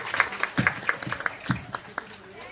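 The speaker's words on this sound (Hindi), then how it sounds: "एक बार आप लोग भी तालियों से सम्मानित कीजिएगा" Audience applause at a Mata Pita Pujan Diwas (parents' worship day) gathering in Sangam Vihar, heard as scattered, uneven hand claps over a murmur of voices, fairly faint and loose rather than a full ovation.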